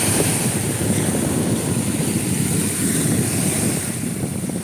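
Ocean waves wash up a beach in a steady, loud rush of surf with heavy wind noise on the microphone throughout.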